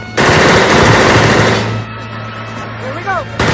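Rapid bursts of automatic gunfire aimed at vehicle tires in an action movie crackle loudly up close, with an engine and shouted voices under the shooting before it drops away and returns briefly at the end.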